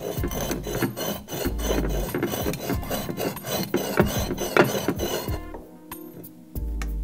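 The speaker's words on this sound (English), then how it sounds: "glaze scratching and grinding against the other part of the glaze" Glazed foot of a ceramic foodservice plate rubbed against another plate's glaze, giving a harsh continuous scraping and grinding with gritty clinks, close and loud, easing off near the end.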